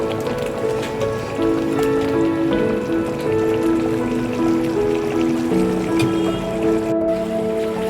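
Spice masala for Bahari chicken fries in oil with a steady, close sizzle and crackle, while a soft tonal background runs underneath.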